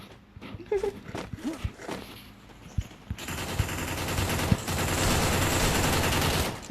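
Desert Eagle pistol fire in Free Fire, a few sharp cracks over muffled talk and shuffling, followed by a dense, loud burst of gunfire and game noise.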